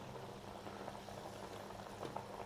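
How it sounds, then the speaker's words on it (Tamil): Coconut milk boiling steadily in a pot for ghee rice, a continuous close bubbling and simmering with small pops, no talking. "நல்லா தேங்காய் பால் நல்லா கொதிக்க ஆரம்பிச்சிருச்சு."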